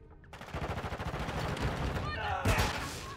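Rapid bursts of automatic gunfire from a Call of Duty: Modern Warfare II match, a quick rhythmic volley followed by a sharp louder shot, with game sounds and faint talk mixed in.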